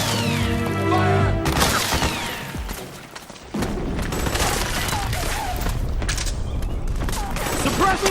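Dense suppressing gunfire in the Metal Gear Solid 4 video game: sustained bursts of shots and booming impacts roll on with crashes, loud and near, with battle shouts mixed in over a musical score.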